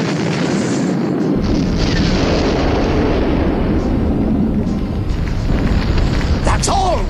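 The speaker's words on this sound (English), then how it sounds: "God, there were really big explosions" Continuous heavy rumbling roar of large munitions blasts aboard a burning ship, dense and loud throughout, with crackling bursts and a faint voice near the end.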